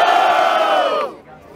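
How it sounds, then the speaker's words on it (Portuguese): Crowd at a rap battle roaring and shouting in a single loud burst that fades after about a second. "Barulho pra cima do Refel!"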